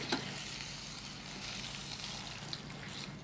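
Creamy mushroom pasta sauce is stirred in a pan, a soft continuous sizzle and bubbling with faint scraping, quiet and close, with no voices.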